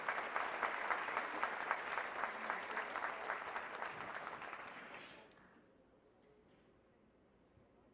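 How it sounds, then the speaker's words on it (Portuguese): A crowd at a formal ceremonial session claps steadily for about five seconds, the applause then fading out and leaving a quiet room. "Uma salva de palmas ao Dr. Fábio Prieto."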